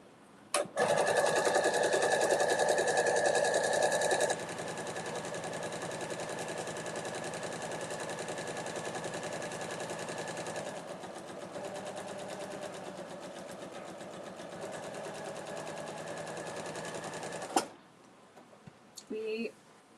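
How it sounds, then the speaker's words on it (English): A sewing machine stitches along a fabric edge in a steady, loud whirring run, slowing partway through and then stopping with a clunk, followed by faint handling noise. "I just sewed this down so that it's like a nice finished looking edge"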